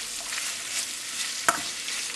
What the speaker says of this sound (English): Brown the onions